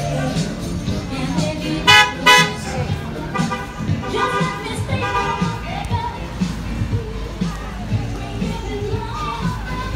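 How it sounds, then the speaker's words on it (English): Car horn honking at a Mother's Day parade, a few short toots rising over continuous outdoor crowd and traffic noise, with people talking throughout. "Honk that horn, Leanne."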